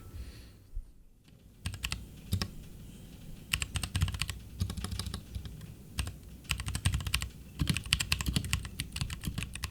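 Rapid clicky typing on an RK68 hot-swappable mechanical keyboard with unlubed Durock T1 switches, close up, in uneven bursts with brief pauses, no voices.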